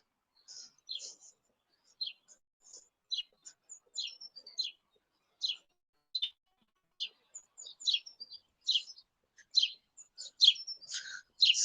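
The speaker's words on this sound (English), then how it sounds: "you have some birdies." Small birds chirp and tweet outdoors in Fuerth, Bavaria, with short bright calls and trills repeating in quick bursts, fairly close and growing busier toward the end, with no talk over them.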